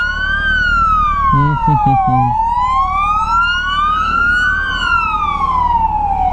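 A loud police siren wails continuously, sweeping up and down in pitch over steady traffic rumble, with a brief burst of horn-like tones early on.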